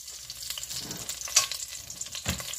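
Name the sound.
bay leaves sizzling in hot oil in a pot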